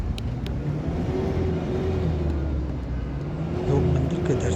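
Vehicle engines hum steadily along a mountain road to Taradevi temple near Anantpur, cars carrying visitors back from the shrine, with a faint whir rising slightly toward the end.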